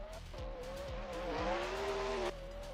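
Drift car launching into a handbrake initiation, engine bouncing off the limiter as the tyres break loose into a sustained, loud squeal for about two seconds before the screech cuts off abruptly.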